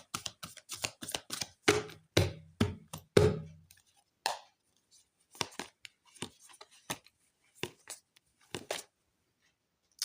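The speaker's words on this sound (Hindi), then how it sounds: "last shuffle for Libra please" Tarot cards shuffled by hand in a Hindi reading for Libra, a run of crisp, rapid riffling bursts and snaps, denser at first and then spaced out in short separate flicks, close and fairly quiet with no talk.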